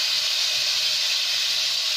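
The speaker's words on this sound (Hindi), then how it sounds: "मैं इसमें दो टमाटर जो मैंने काटे वो मैं डाल देती हूँ" Chopped tomatoes hit hot garlic-ginger paste in a pan, giving a loud, steady, close sizzle that holds evenly with no break.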